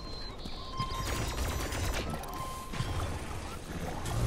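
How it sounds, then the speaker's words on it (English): Turret gunfire in the shooter game Atomic Heart, a dense rattling burst running steadily through the moment amid game ambience, fairly loud and close. "That's a turret."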